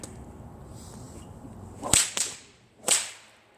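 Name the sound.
bullwhip fast figure eight cracking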